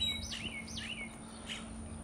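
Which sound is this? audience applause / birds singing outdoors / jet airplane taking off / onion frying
birds singing outdoors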